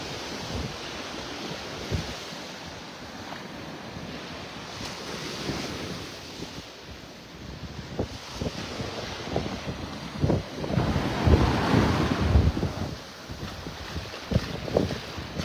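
Gulf of Mexico surf breaks on the sand at Delnor-Wiggins beach in North Naples, Florida, with repeated washing rushes swelling louder toward the end and steady wind buffeting the microphone throughout.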